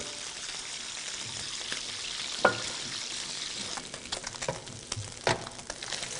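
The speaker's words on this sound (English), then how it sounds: "When you sear your fish, you want to make sure we go presentation side down" Fish fillets sear presentation side down in a pan, giving a quiet, even frying hiss with scattered pops and a couple of sharper knocks toward the end, close by with no talking.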